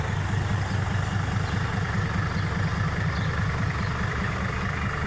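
A tractor engine idles steadily nearby, a constant low chugging rumble throughout with no talking.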